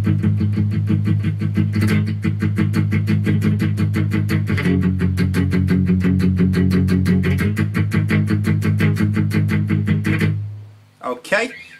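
Distorted electric guitar plays the verse of a song as steady driving chugged chords, loud and close, stopping near the end with a short scrape.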